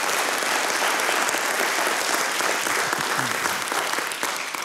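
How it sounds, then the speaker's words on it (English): A large audience at a precision medicine summit session gives a long, full round of applause, dense and steady throughout and tapering slightly near the end. "Jenny, by the way, deserves a huge round of applause."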